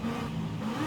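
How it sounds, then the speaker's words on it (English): Supercharged V8 car in Forza Horizon 5 revving hard, with a steady whine riding over the deep engine roar, close and loud throughout. "The supercharger whine."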